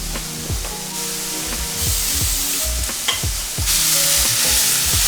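Food sautéing in a pan while being turned over, a close, steady sizzle punctuated by repeated scraping stirs, loud and without any talk.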